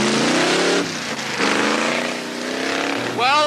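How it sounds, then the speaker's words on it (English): A car from around 1979 accelerating during a road test, its engine note rising and shifting in steady waves of revving, close and fairly loud, with a voice speaking over it. "let's see what the acceleration is like on this model"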